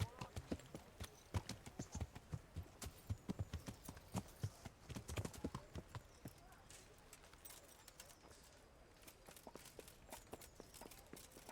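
Horse hooves clop in a steady walking rhythm, crisp and close, gradually thinning out toward the end with faint talk in the background.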